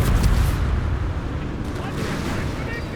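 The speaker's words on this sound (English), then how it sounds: "Sounds of charge being chucked to deny the Germans the Pack 40." A satchel charge thrown and detonating in the Company of Heroes 3 strategy game, a deep rumbling blast with continuous battle noise and gunfire beneath a commentator's voice.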